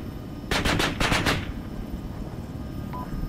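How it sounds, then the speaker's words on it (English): A single quick burst of about six rapid gunshots from the Arma 3 video game rings out, followed by a quiet ambient background with a faint tone. "Guns, guns, guns."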